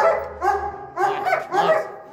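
A dog barks three times in quick succession, close and fairly loud, each bark a slightly whiny, yelping bow-wow, with no talking.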